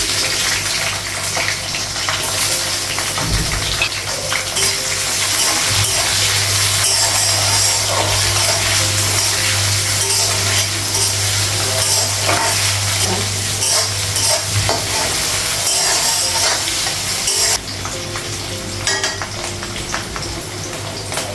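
Capsicum, green chili and panch phoron fry in hot oil, a loud, continuous sizzle close up with steady stirring scrapes throughout and no talk.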